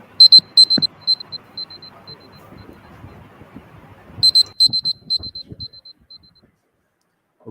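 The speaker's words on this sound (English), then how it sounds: "we'll sound a buzzer, which will sound something like this" Buzzer or alarm tone marking the end of presentation time in a trading competition panel, two short bursts of repeated high beeps spaced seconds apart, with clicking and rustling between them.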